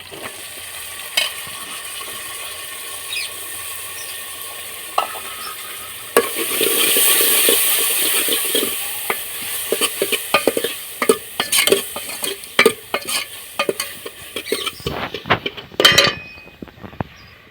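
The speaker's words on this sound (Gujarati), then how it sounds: "ડુંગળી સારી ચડવા દેવાની" Onions fry with chillies and curry leaves in a pan for village-style Gujarati tuvar dal, hissing steadily while a spoon stirs and clinks against the metal, with a burst of clattering scrapes toward the end.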